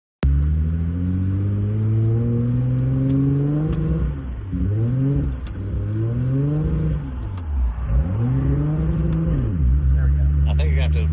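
A Nissan R35 GT-R with a fault pulls away with a loud close engine note. It revs up in repeated rising sweeps, dropping back between pulls, and faint voices sit underneath.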